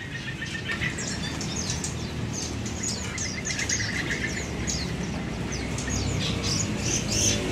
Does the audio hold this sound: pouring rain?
no